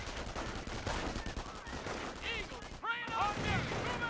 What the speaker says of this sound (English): Oh god, we're taking fire here.